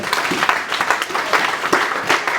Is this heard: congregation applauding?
yes